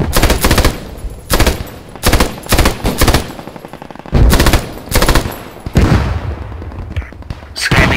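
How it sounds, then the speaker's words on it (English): An MG34 machine gun in the video game Post Scriptum fires loud, close bursts of suppression fire on bunkers and trenches, several rapid volleys separated by brief pauses. "MG, you need to put suppression fire on the bunkers, on the trenches ahead."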